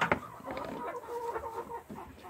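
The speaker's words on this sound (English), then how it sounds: "Oh, that's a nice chicken." Chickens clucking inside a dark coop during egg collecting, a steady run of close, moderately loud clucks with one sharper burst near the start.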